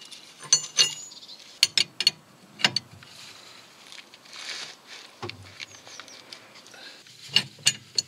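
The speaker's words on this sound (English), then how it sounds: "Slacken the lock nut on the track rod." A spanner loosens the lock nut on a car's track rod during a wheel alignment, giving a series of sharp metallic clicks and ratcheting taps in short bursts, fairly close, with quiet gaps between.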